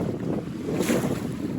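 A Buccaneer 18 sailboat moving under a southwest breeze, with steady rushing wind across the microphone and water washing along the hull, alone.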